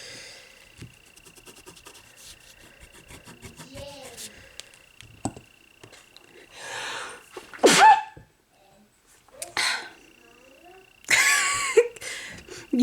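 A single sharp sneeze bursts out near the middle, surrounded by quieter breaths and soft noises, followed by other short vocal sounds.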